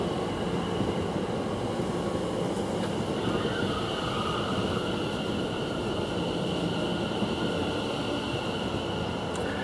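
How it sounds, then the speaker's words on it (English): A late-running Greater Anglia train rumbles into Cambridge North station with a continuous, steady roar and faint wheel squeal, heard fairly close on the platform. "And this Great Wrangler train is a late running train."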